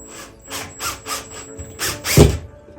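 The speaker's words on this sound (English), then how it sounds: "So I can see how I can move the bracket with my drill." A power drill drives a screw into a ceiling curtain-track bracket, whirring in short repeated bursts, then driving harder with a low grinding strain near the end, close by.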